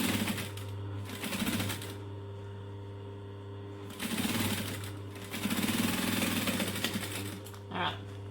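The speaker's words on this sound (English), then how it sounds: "So I'm going to stitch both of these in a chain" A sewing machine runs in steady bursts, chain-stitching fabric pieces for a clutch purse, its motor humming loud and close, pausing between runs with a brief clack near the end.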